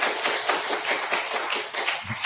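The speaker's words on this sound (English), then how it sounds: "let's give a clap, for John" A room of meeting attendees at a technical standards session applauds a colleague, steady dense clapping throughout with a brief low thump near the end.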